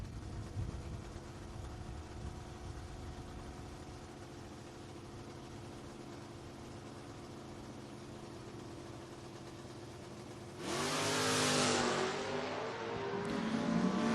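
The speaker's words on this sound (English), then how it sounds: "Kurt Burns and the Monza taking on Soggy Dunn of the Camaro" Chevrolet Monza and Camaro at the start line of a footbrake drag race: a long stretch of rumbling idle, then a sudden loud surge of engines revving and launching near the end. No voices.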